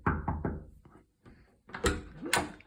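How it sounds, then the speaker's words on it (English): Knocking on a closed door, with a quick burst of three raps, a pause, then two heavier, louder knocks, close and distinct with no talking. "Door is shut. We better knock."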